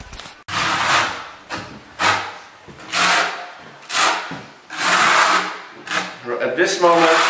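A quarter-inch notched trowel back-butters an 18x18 travertine stone floor tile with setting mortar, producing loud close repeated scraping sweeps in a steady rhythm, with a voice talking in between.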